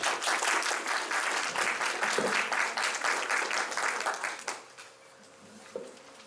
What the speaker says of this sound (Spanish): Les pido un fuerte aplauso para el doctor Marco Abiel Hernández Camacho.